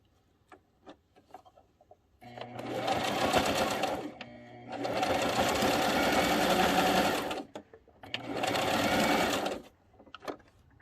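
A sewing machine stitches a handmade scarf in three bursts of rapid, steady needle chatter separated by short pauses, close and fairly quiet with no talking.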